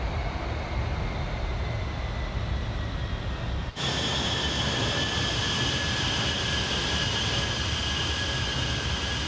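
Avro Vulcan B Mk2 jet bomber descending on approach in a flight simulator, a loud steady engine roar with a whine that drops out for a split second, then resumes with brighter tonal notes.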